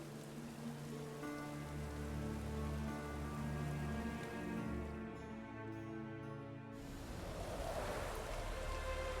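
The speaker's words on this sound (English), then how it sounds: "It's raining." Rain falls steadily in the Witcher 3 video game, a dense hiss layered over low game music, fairly loud and continuous, with a brief quieter dip before the downpour swells again.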